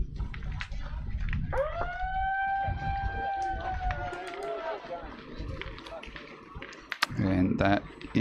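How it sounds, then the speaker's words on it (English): A siren signalling the start of a game at an Australian national championship, a rising then sustained wailing tone over background crowd chatter and movement, followed by a sharp knock and louder noise near the end. "that is the siren for the start of the game"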